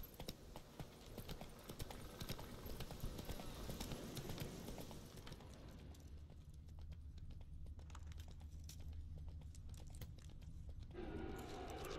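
A horse's hooves clip-clop in The Witcher 3, a rapid, regular patter of footfalls throughout, quiet and fairly close amid in-game ambience.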